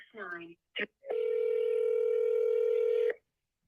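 A telephone dials out on a wholesale real estate cold call: a short voice-like burst and a brief tone, then a steady, loud dial or ringback tone holding for about two seconds before cutting off.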